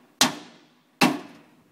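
A Snap-on hammer strikes twice, each a sharp close impact with a short ringing decay, spaced under a second apart with quiet between.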